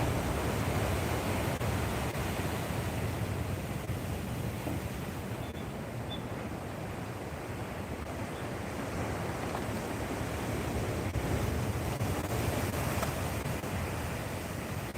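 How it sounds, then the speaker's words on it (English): Ocean surf rolls in at Bouznika beach at sunset, a steady broad roar of waves mixed with wind buffeting the microphone, constant throughout. "Can you hear the ocean at all?"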